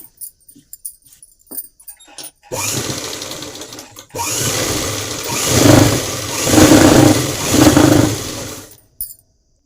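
A home sewing machine runs in bursts while stitching a folded hem on a girl's body pavada dress, a steady whirring that swells and eases in three close, fairly loud pulses.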